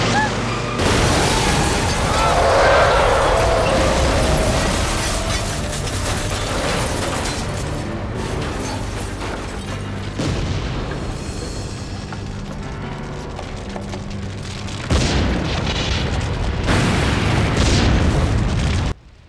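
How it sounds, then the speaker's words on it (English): Loud, sustained rumbling booms and crashing debris from a staged film car crash and explosion, with roaring bursts that swell and fade, then cut off abruptly. "The nearest we get is one terribly staged car crash and explosion."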